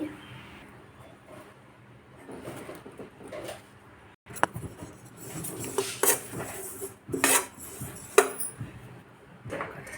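Sesame seeds are dry-roasted in a pan for mint chutney, with a utensil scraping and clinking against the metal in irregular bursts that grow busier and louder in the second half, no speech.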